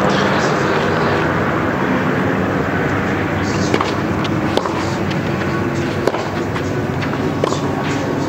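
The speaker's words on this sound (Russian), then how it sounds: "Тут над кортом в это время пролетел такой серьезный боевой вертолет." A military attack helicopter passes over a tennis court during a women's Fed Cup final, heard as a steady, loud, broadband rotor and engine roar sustained throughout with occasional sharp clicks.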